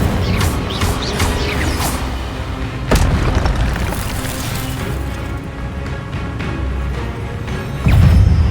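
In Hogwarts Legacy, the Incendio fire spell erupts in a loud, booming, roaring blast that sustains a crackling rumble, with sharp impacts punctuating the continuous fiery noise.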